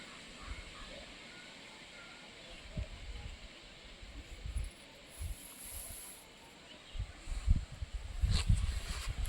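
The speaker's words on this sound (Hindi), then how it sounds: "बहुत तेज़ से हवा चल रही है" Strong wind gusting across an open field, buffeting the microphone with low rumbling thumps and a rushing hiss that swells toward the end.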